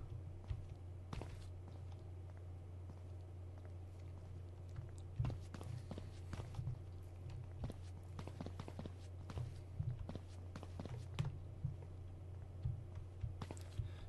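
Soft footsteps of a character in the stealth video game Sneak Thief, scattered irregular taps and scuffs over a steady low hum, fairly quiet throughout.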